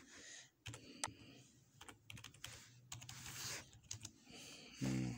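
Fingers tap out a name on a computer keyboard in quick, uneven bursts of soft clicks, close and fairly quiet, ending with a firmer key press.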